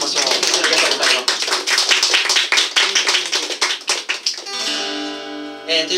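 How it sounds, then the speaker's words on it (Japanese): An audience at a live cafe concert claps together, a dense burst of applause that fades out as a sustained musical tone takes over near the end. "なんかいいこと言ったので拍手しましょう"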